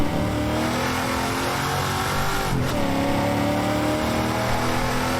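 A legendary Can-Am race car engine in the Assetto Corsa racing game at the Mulsanne Straight screams steadily at high revs, with one brief dip and climb as it shifts gear, loud and continuous.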